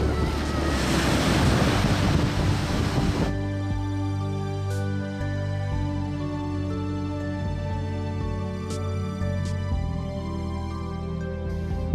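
Waves wash against the Guernsey coast, with a heavy surge of surf and wind at the start that eases into a calmer steady rumble of the sea.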